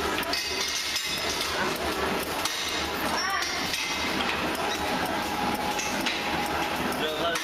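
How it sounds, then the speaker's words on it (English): Eight PVC band dispensing machines run together on a factory production line, giving a dense, steady mechanical clatter with metallic clinks and taps throughout, loud and continuous with no pauses. "8 machines production line in customer's factory working scaffolding. PVC band."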